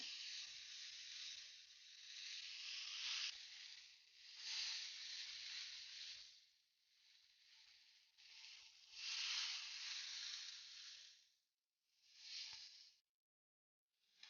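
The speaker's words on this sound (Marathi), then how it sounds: "तव्याला मी थोडं तेल लावून घेतलेलं आहे आणि मी आता त्यावर पनीर ठेवणार आहे" Paneer tikka pieces are set on an oiled hot tawa over low flame, producing a soft, close sizzling hiss that swells and fades in waves, with brief quiet gaps.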